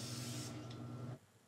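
Spray adhesive from an aerosol can applied to the sides of a DIY drawer organizer: one steady hiss lasting about a second, close and fairly quiet, then cutting off abruptly.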